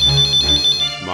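A telephone ringtone chirps in a fast repeating electronic trill, loud and close, running steadily for about a second with no talk over it.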